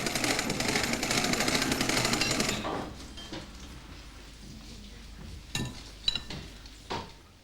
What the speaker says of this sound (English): The whisk beats air into the liquid egg white.